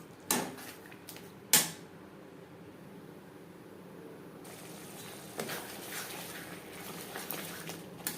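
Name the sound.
stirring masala with tomato paste in a pan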